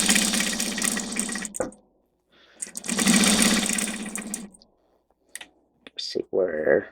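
A sewing machine stitches a tote bag in two long runs with a pause between, loud and close, followed by a few clicks and a brief burst of talking at the end.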